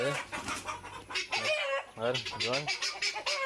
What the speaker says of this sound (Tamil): இந்த கின்னிக்கோழி பிரேன்னு ஒரே கத்தம்